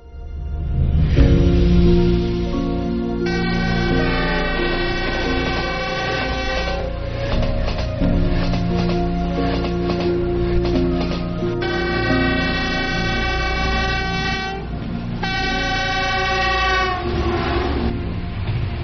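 A train stands at Shimen railway station; its horn blows loudly in several long, sustained blasts separated by short breaks, over a low rumbling engine, with no voices.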